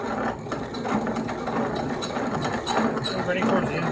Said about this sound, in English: Make sure that I have the top side up, and I'm trying to grind it as square as possible.